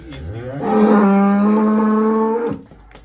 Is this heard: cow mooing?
yes